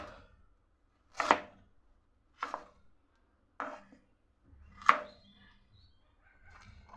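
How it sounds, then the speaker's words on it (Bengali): A knife chops a piece of ginger into large chunks on a board, four sharp, evenly spaced thunks with quiet pauses between them and no talking. "এই যে এরকম একটা আদার টুকরো জাস্ট বড় বড় করে কেটে নিলাম"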